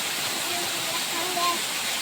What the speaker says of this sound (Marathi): बघा आता पाऊस चालू झाला आमच्याकडं भारी भारी.